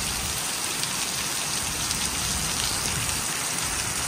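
Heavy monsoon rain pours outside in a dense, steady hiss on surfaces, loud and unbroken throughout with no voices.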